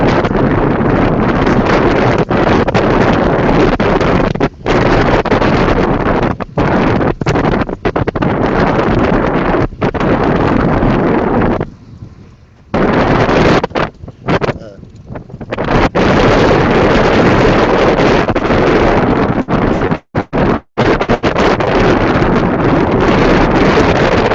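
Strong wind buffeting and roaring across a microphone outdoors, loud and nearly continuous with a few brief lulls and dropouts.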